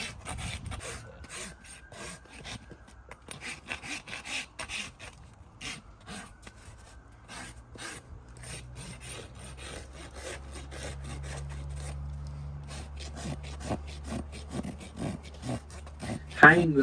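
A farrier rasps and trims a horse's hoof wall in repeated short rough scraping strokes, close and moderately loud, with a low hum beneath.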